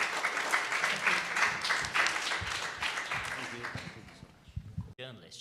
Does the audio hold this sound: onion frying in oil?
no